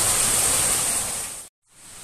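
Heavy rain pours down at night in Itapura during a storm as a dense, loud, steady roar with no talk, then cuts off briefly and resumes more softly.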